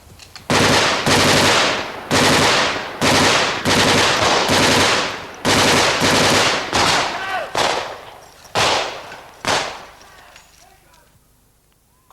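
A volley of rifle fire from a group shooting on command, about a dozen loud, close, sharp shots in an uneven rhythm, spacing out and fading toward the end.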